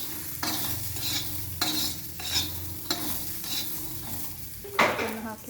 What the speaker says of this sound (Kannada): ಟೊಮೆಟೊ ಎಣ್ಣೆ ಹಾಕಿದ ಮೇಲೆ ಸ್ವಲ್ಪ ಉಪ್ಪನ್ನು ಹಾಕಿ ಫ್ರೈ ಮಾಡ್ಕೋಬೇಕು.